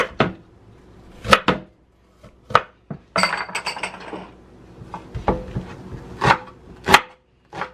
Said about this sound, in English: so I'll go ahead by slicing up my onions